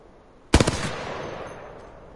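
A quick automatic burst from a gun in the video game Apex Legends, several rapid shots fused into one sharp blast that rings out and decays slowly into a fading tail, loud and alone.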